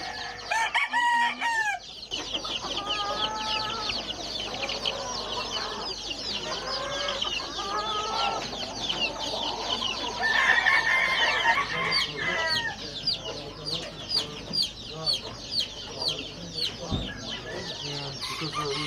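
Many roosters kept for illegal cockfighting, seized by detectives, cluck and crow continuously and loudly, overlapping calls filling the scene with a crowded barnyard chorus.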